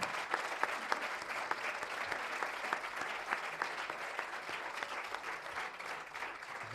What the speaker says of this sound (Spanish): Eso merece un aplauso, por favor, amigos.